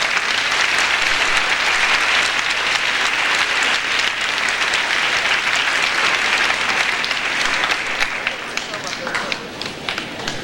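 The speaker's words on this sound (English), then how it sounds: "Let's give all these wonderful students a round of applause." An audience at a school awards ceremony gives students a long, loud round of applause, dense continuous clapping that thins a little near the end.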